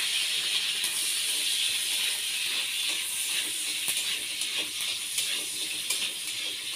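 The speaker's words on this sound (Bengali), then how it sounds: "পেঁয়াজটা তো ভাজবো।" Onion frying in a pan with eggplant and potato, giving a steady broad sizzle with faint crackles throughout and no other sounds.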